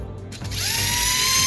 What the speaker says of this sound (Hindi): नॉर्मल बीओ मोटर इतना तेज़ नहीं चलता, ये बहुत तेज़ चल रहा है